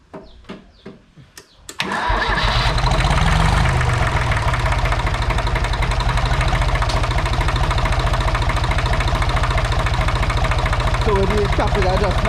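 A Ford 1900 tractor engine, just after a tappet adjustment, cranks briefly, catches and settles into a loud, even, close diesel idle with a steady rhythmic chug. Someone speaks faintly underneath near the end.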